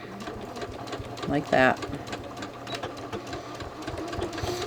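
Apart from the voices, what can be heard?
sewing machine stitching an invisible zipper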